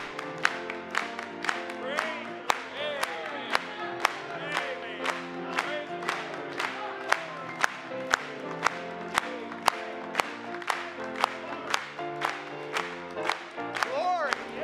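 A congregation claps in steady rhythm, sharp regular beats sounding alongside singing and music during a French-language church service.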